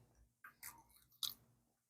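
Someone bites into a crunchy cracker eaten alongside MRE cheese tortellini, giving a few close, crisp crunches and chewing sounds in quick bursts before falling quiet.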